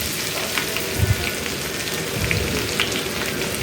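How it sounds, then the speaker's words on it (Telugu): Crushed garlic fries in oil with a steady sizzle, dense and continuous crackling in a pan, with a few soft stirring knocks. "అవి కొంచెం బ్రౌన్ కలర్ వచ్చే వరకు ఫ్రై చేసుకోవాలి"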